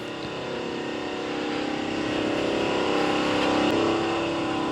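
A 2026 Aprilia RSV4 Factory superbike engine idles then revs up, rising to a higher-pitched steady roar before easing slightly, close and fairly loud.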